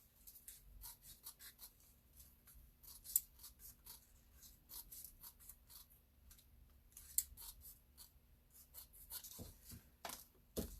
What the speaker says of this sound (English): Cutting glitter should sharpen scissors too, I would think.